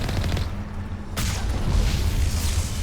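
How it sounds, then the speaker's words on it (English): The Mako tank's cannon fires in the Mass Effect game, a loud booming blast followed by rumbling combat noise, heavy and close. "The cannon is the best thing about the Mako."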